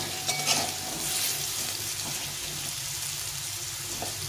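Potatoes with a pinch of turmeric frying in a pan for aloo posto, giving a continuous close sizzle with light stirring scrapes and no talk.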